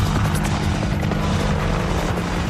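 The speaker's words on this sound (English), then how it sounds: "the Army's Longbow variant is a completely modernized reworking of the original, making it the most lethal multi-mission helicopter in the world." An Apache Longbow attack helicopter flies past, its rotor and turbine producing a dense, steady roar with rhythmic blade chop, loud and continuous throughout with no voices.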